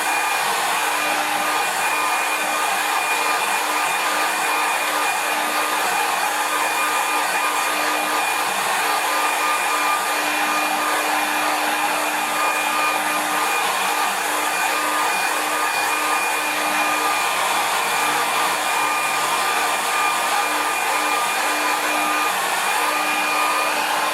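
A hair dryer blows a steady, loud, even whir for a long stretch while drying a watercolour landscape painting, with no voices over it.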